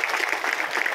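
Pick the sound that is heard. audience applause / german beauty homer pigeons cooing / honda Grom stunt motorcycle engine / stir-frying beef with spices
audience applause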